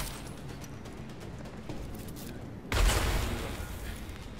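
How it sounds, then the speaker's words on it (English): Gunfire from a tranquilizer-style weapon in Deus Ex: Mankind Divided: a quiet stretch, then a sudden loud burst of sharp shots and a crash that trails off over the last seconds. "How many times do I have to shoot him?"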